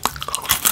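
A quick burst of crisp, close-up crunches as freeze-dried mango is bitten and chewed, several sharp cracks in under a second.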